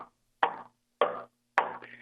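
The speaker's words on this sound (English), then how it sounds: "These are sounds of pulsars recorded by NASA." NASA recording of pulsar signals rendered as sound: three sharp, isolated knocks spaced roughly half a second apart, each a short crackling burst decaying quickly into silence, fairly faint.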